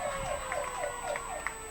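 A siren wails faintly in the distance during a high school football game, its pitch rising and falling in a steady repeating cycle with no voices.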